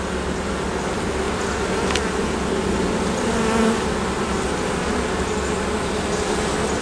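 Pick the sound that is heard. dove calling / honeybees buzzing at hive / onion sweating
honeybees buzzing at hive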